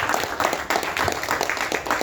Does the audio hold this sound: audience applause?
yes